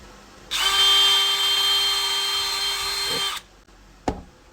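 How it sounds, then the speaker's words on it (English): A power drill with a small bit spins up sharply and whines steadily for about three seconds while drilling a hole in a plastic bucket, then stops, followed by a brief knock as it is set down. "now switching up to a smaller drill bit, we're going to drill a hole"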